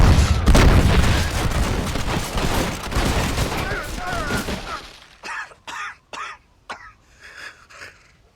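Video game gunfire in Red Dead Redemption comes as a dense, loud burst of overlapping shots and booms, then thins into a few separate sharp reports, with voices faintly mixed in.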